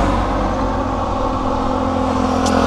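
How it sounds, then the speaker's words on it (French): Steady road traffic rumbles past a roadside valley viewpoint in Thailand, loud and continuous, with engine hum and tyre noise from passing cars and scooters. "Donc forcément, il y a un peu de circulation."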